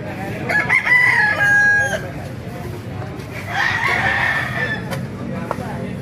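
A rooster, a fighting cock about four years old, crows twice nearby, loud drawn-out calls over a background of other chickens and faint murmuring at a market.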